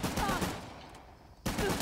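Gunfire from the Uncharted: The Lost Legacy video game, a burst of rapid shots up front, a quieter gap, then another loud volley near the end.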